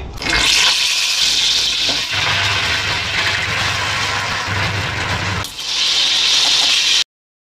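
A kitchen mixer grinds the soft inner pulp of pointed gourd into a paste, a loud, steady whirring drone that holds throughout, with its pitch shifting partway through before it cuts off abruptly.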